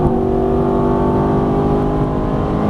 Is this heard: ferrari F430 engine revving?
yes